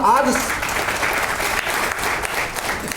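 Audience applause from a crowd gathered for a Hindi company presentation, a dense, steady wash of clapping that fills the whole stretch at even loudness, with no voices standing out.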